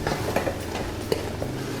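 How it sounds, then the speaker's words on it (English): Chopped mulukhiyah leaves are stirred in a pan until dry, with soft scraping and a few light utensil knocks over a low, steady background hiss. "We have to keep stirring until we get a dry consistency."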